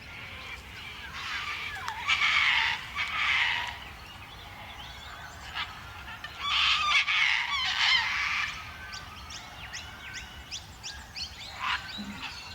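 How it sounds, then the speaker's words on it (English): Harsh, loud squawking calls of a sulfur-crested cockatoo in the video game Call of the Golden Valley, set in the Australian outback, coming in several separate bursts with quieter bird chirps between them. "Loud and harsh squawking and screeching is their call."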